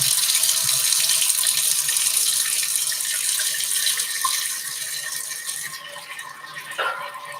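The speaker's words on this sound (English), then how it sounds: "I'm just going to add some cold water," Cold tap water runs into a cooking pot in a kitchen, a steady, bright hissing stream that fades slightly as the pot fills, then stops near the end with a brief splash, no talking.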